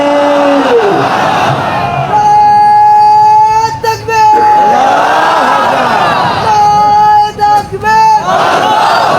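A large crowd at a political rally chants a takbir slogan, loud unison shouted calls rising and falling in repeated waves, with a leading voice calling out between the responses.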